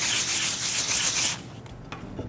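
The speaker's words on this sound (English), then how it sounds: "So that's how simple and quick and easy it is to do a scuff sand" Scuff sanding a painted surface by hand with a sanding pad, a steady rough rubbing scratch for over a second, then quieter light strokes.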